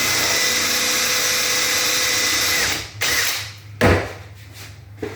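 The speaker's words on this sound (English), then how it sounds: "All right, so we drill our hole." A power drill whines steadily for a few seconds boring a hole in wood, then winds down and stops, followed by a couple of brief bursts and a sharp knock.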